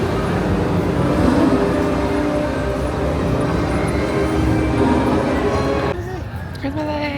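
A train rolls past at a London railway station, making a loud, steady rumble that fills most of the stretch before dropping away near the end, with people talking over it.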